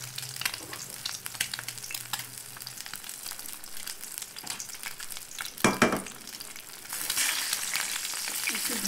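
An egg frying in oil in a pan as it is stirred and broken up, a close continuous sizzle with scraping stir strokes, one louder burst near the middle and a brighter hiss toward the end.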